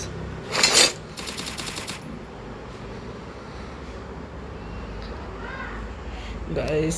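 Mini Uzi bursts in the Free Fire video game: two quick rapid-fire volleys early on, loud and close, with fainter game effects after and a player talking throughout.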